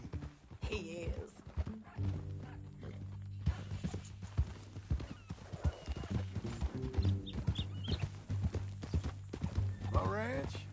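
Hooves of a horse on a ranch clip-clop in a steady rhythm beneath a conversation between two people, with a brief whinny near the end.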